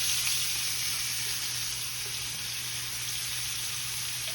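Onions and peppers sizzle in oil in a cast iron skillet, a loud, steady, close hiss and crackle that holds evenly throughout with no talking.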